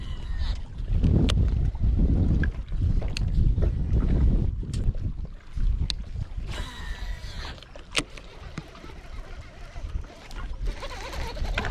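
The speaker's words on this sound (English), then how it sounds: "that wind is a ripping, old son" Strong wind buffets the microphone in heavy rumbling gusts on a bass-fishing boat, with water and boat sounds around it and some sharp knocks.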